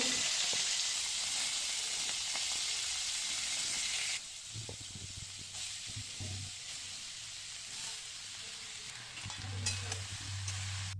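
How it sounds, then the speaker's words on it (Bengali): Bottle gourd peel and amaranth greens fry in a pan with a steady broad sizzle and hiss, close by, which drops to a quieter crackle partway through, with occasional stirring scrapes. "লাউয়ের খোসা আর নোটে শাকটা ভাজা বসিয়ে দিলাম।"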